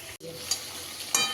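Potatoes frying in hot oil for a home-cooked Bengali meal, a steady close sizzle with brief louder crackles and a short dropout near the start.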